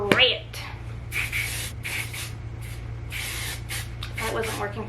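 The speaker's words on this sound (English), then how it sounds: "I'm gonna shake this up and spray it." Several bursts of hairspray from an aerosol can hiss nearby, short puffs separated by brief pauses, with a low steady hum underneath.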